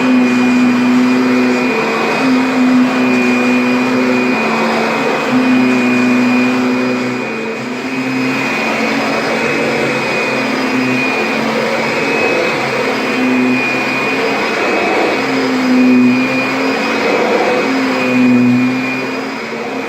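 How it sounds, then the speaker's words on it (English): A Kirby vacuum cleaner pre-vacuuming carpet throughout a house, a loud, steady motor whine with a constant high tone that dips briefly midway as it passes over the floor, with no talking. "we're just going to go ahead and go through the entire house, beginning with a pre-vacuum"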